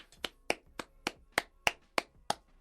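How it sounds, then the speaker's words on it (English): Eight sharp hand claps in a steady, slightly slow rhythm, close and crisp, with no voices. "Round of applause."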